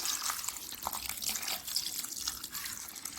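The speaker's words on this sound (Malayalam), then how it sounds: "കുറച്ച് വെള്ളം ഒഴിക്കുക" Water pours into a cooking pot of squid in a continuous splashing stream, close and fairly quiet, with no talking.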